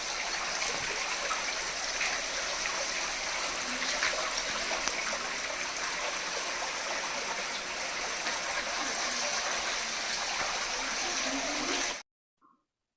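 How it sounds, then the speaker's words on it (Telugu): A small homemade water fountain trickling and splashing nearby in a steady, continuous wash of running water that cuts off abruptly near the end. "నెక్స్ట్ మీరు చూడబోయేది ఒక వాటర్ చిన్న ఫౌంటైన్ లాగా వాళ్ళ అబ్బాయి తయారు చేశారట."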